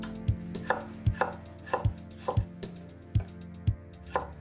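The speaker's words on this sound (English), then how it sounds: "And I've got some vine tomatoes that I'm going to dice up." A knife dices vine tomatoes on a cutting board in a kitchen, giving about eight crisp, evenly spaced chops close by, with no talk.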